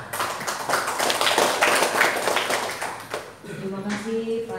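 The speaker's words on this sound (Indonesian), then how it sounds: "tepuk tangannya sekali lagi." Audience applause at an Indonesian community seminar in Adiwerna, Tegal, a dense patter of clapping that swells and then thins, with a voice starting to speak over the tail.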